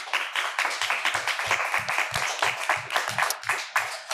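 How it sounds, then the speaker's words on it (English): A small audience claps for quiz show teams in a studio, a loose run of distinct, fairly close hand claps with a quick uneven rhythm lasting a few seconds. "Good round of applause."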